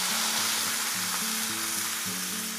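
Boiling water hits a hot non-stick pan for golden-broth pickled-cabbage fish, giving a loud, steady sizzle and bubbling roar with low repeated tones running underneath throughout.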